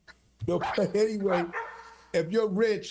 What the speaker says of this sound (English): Or hold on, that's my dog.